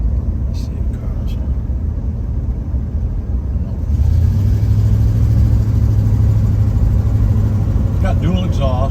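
A restored 1967 Chevelle Malibu with dual exhaust drives along, its engine note rising into a steady low drone under road and cabin noise, while people talk inside the car.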